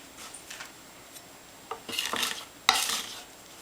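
A kitchen knife blade is pressed and dragged across garlic to mash it into a paste, giving a few short scraping, squishing strokes that grow denser and louder toward the end, close up with no talking.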